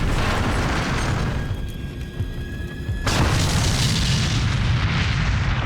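A bundled grenade charge explodes against a Soviet T-34 tank amid 1942 Stalingrad street fighting. A loud, heavy, rumbling blast fills the space, eases slightly, then surges again at full force.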